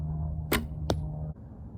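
Two sharp arrow impacts during an archery practice round, a loud broadband thwack near the start and a second shorter one just after, over a steady low hum, with no talking.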